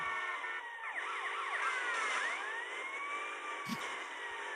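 Wailing police siren in the video game GTA Vice City, its rising and falling sweeps repeating steadily and loudly over a constant background of game traffic noise.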